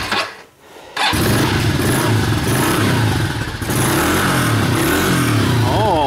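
A cold dirt bike engine catches after a brief quiet moment and then runs steadily, loud and close, with a rough, clattering idle that rises and falls a little.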